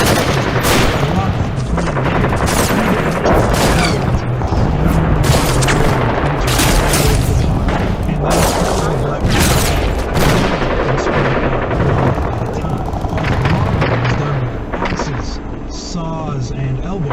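Black powder blasting splits massive rock on Mount Washington. A loud, dense barrage of booming, cracking explosions runs continuously in rapid, overlapping bursts, like heavy gunfire.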